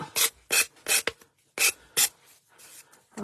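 Sanding the edge of an MDF mini album page, a series of short, close, scratchy rasping strokes in a quick irregular rhythm, about eight passes with brief pauses between them.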